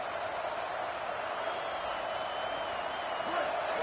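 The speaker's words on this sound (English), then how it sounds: "Listen to this crowd just shaking the girders of this place, trying to help their defense." A packed college football stadium crowd at an NCAA game roars steadily, a dense sustained wash of cheering and noise urging on the home defense, with faint whistles and shouts rising out of the din.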